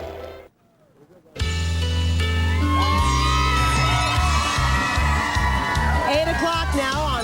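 A large outdoor crowd cheers, whoops and yells on a wet, rainy morning, the roar bursting in loud after a brief quiet and staying sustained and dense, with shouts and voices mixed throughout.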